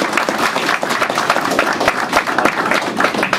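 An audience at a talk claps loudly and continuously in praise of Icelandic dairy farmers, a dense close crowd applause with no voices.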